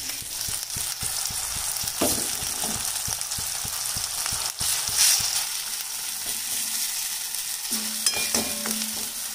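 Ground wet masala paste for a fresh cashew curry sizzles and fries steadily in a hot pan with onion and tomato, loud and close, with a few clinks and scrapes of stirring and no talk.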